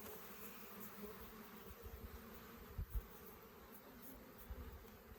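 A continuous drone of many honey bees buzzing nearby, steady and dense, with a couple of soft thumps partway through.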